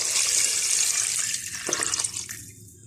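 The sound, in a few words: water poured into pot of fried mutton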